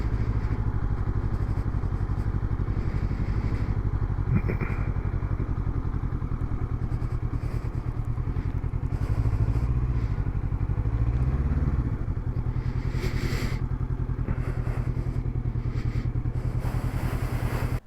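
A Honda CBR500R motorcycle rides along, its engine giving a steady, loud mid-pitched drone with wind rumble throughout and a slight surge in pitch partway through.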